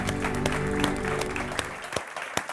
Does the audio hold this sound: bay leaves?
no